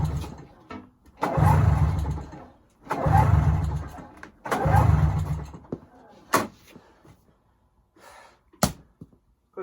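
Repeated pull-start attempts on a 1997 Yamaha Vmax XTC 600 snowmobile engine: three loud, rough two-second cranking bursts close by, followed by quieter sharp knocks and clatter.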